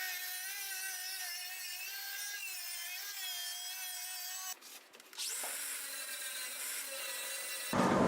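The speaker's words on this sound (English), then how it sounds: "New tool, finger sander, when you need to finger things." Cheap Zito finger sander running on wood, a steady high-pitched whine with a rough sanding hiss, briefly dipping and shifting pitch midway before resuming.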